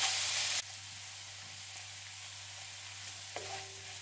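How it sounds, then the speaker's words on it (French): Garden vegetables cooking with brown sugar in a pan for a vegetable tatin, giving a soft steady sizzle that runs evenly under a low hum, with a brief clink near the end. "Et on continue à laisser cuire encore un petit peu, histoire que ça caramélise."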